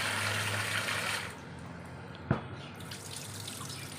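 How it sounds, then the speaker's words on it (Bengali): Rice being washed under a running tap: a steady rush of water into a vessel, then a brief splash and swirl as the grains are rinsed. Close by, with no talking. "চালটা ভালো করে ধুয়ে নিয়ে জলটা 3-4 বার করে জল ফেলে দিয়ে চালটা ভালো করে পরিষ্কার করে"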